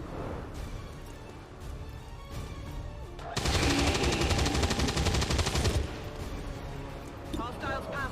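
Sustained automatic gunfire erupts in a video game battle, a dense, loud machine-gun burst lasting a couple of seconds amid lighter shots and game chatter before and after.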